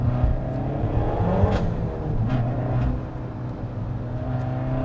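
A Peugeot 308 GTi accelerates hard around the Castle Combe race track on a cold, dry day, its engine droning steadily and close with rising revs and brief gear-change dips, alone without talk.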